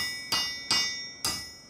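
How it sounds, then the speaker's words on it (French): A hammer strikes incandescent steel at a forge while a sword is being forged, three sharp ringing metallic blows at an uneven pace, each leaving a bright sustained ring that fades before the next hit. "On travaille avec un marteau et une masse. Il faut battre pour durcir."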